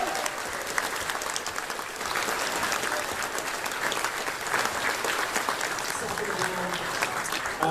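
Steady, broad applause from a large crowd at a convention closing ceremony, continuous and even throughout, with faint voices underneath.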